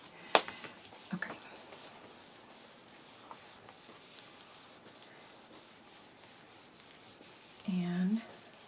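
An embroidered Valentine's Day greeting card is smoothed by hand, turned upside down and rubbed in a soft, steady brushing of fingers over paper, close and quiet, with a few faint taps.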